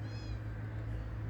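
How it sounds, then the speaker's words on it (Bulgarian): A male black cat outside an apartment block, near a parked car, gives a brief, faint meow at the start over a steady low background hum. "Много хубаво коте."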